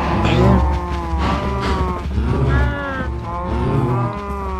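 Cows in the video game Survivalcraft moo loudly and repeatedly, several long drawn-out calls overlapping one another close by, with no talk over them.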